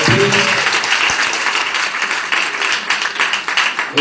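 Audience applause welcoming performers onto the stage for a Gita Jayanti skit, a dense, steady wash of many hands clapping that holds loud throughout and eases off slightly toward the end, with faint voices underneath.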